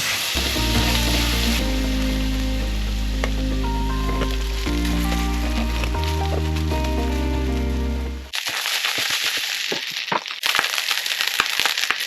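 Rice fries in a pan for Filipino fried rice, a steady crackling sizzle that runs under tonal background music at first, then stands alone louder and sharper near the end.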